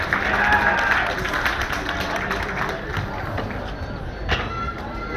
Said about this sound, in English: If you wouldn't mind putting your hands together and give us a bit of a cheer